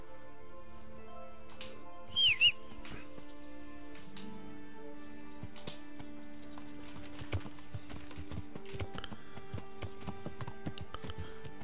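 Horse hooves clip-clopping at a steady walk in the medieval game Kingdom Come: Deliverance, with a short whinny near the start, over quiet ambient music.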